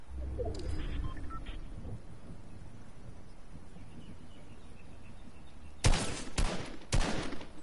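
Several sharp, loud gunshots crack close together near the end, after a long stretch of quiet outdoor ambience with faint bird-like sounds.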